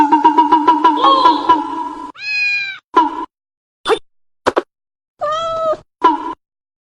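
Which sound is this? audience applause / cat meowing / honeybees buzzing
cat meowing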